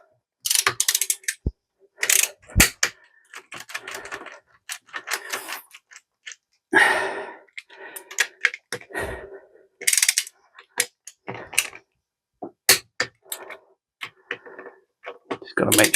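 Torque wrench clicking and ratcheting as engine bolts are tightened to about 50 during a Crusader 454 marine engine bottom-end rebuild, with irregular close mechanical clicks and clatter while someone talks in between.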